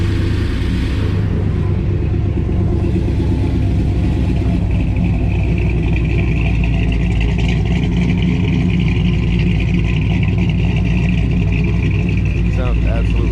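A 1954 Chevrolet Bel Air with a self-tuning EFI setup runs loud and close, a deep steady rumbling idle with a slight lift in pitch partway through, continuing throughout.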